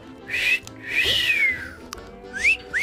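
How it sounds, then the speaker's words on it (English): Several short whistled notes, rising and sliding tones in separate bursts, fairly close, with pauses between them and no talking. "You, you just whistled."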